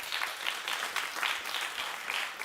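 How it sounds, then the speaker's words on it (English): Studio audience on a daytime talk show breaks into steady, dense applause, many hands clapping together at close range for a couple of seconds with no voices over it. "clap if you think it's worth it"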